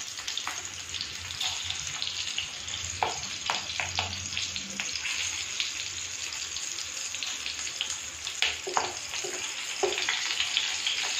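Green chillies stuffed with gram flour fry in oil in a pan for a Rajasthani bharwa mirchi dish, a steady hissing sizzle with scattered clicks and taps as the pieces are added and moved, no voices.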